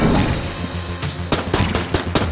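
A gun in Enter the Gungeon fires sharp, close shots in quick bursts, clustered in rapid groups over a busy background.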